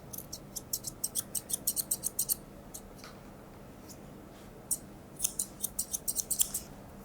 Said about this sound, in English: with the clipped foot you still need to go back over with your scissors just to make sure you've got all those little hairs around the toes